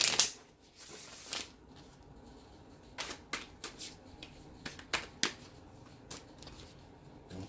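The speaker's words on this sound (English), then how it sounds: "let's do one more shuffle" Tarot cards are shuffled close up, with quick snapping riffles and soft flicks in an irregular rhythm, quiet and without any talking.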